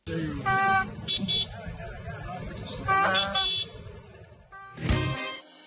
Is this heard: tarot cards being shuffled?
no